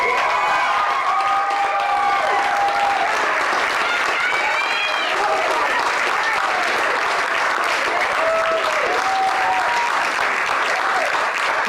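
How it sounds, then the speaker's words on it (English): Sustained applause from an event audience at a poetry recitation competition as the first-place winner is announced, loud and continuous, with cheering and high whoops rising over the clapping. "one more final round of applause for all of our incredible performers today"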